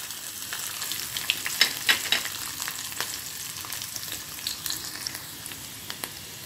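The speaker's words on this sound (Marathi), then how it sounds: "आपण यामध्ये आता लसूण घालणार आहोत।" Garlic fries in hot oil with mustard seeds, a steady, close sizzle broken by occasional small pops and crackles.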